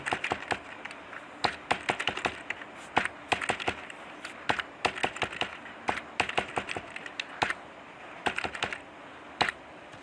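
Quick, irregular bursts of clicking keystrokes on a computer keyboard while a number is entered into a spreadsheet cell, close and fairly quiet, with short pauses between clusters and no talking.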